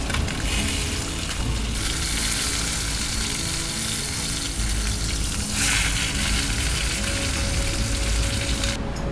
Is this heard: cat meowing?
no